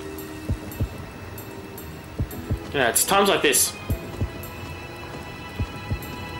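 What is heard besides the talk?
heartbeat sound in The Legend of Zelda: Skyward Sword video game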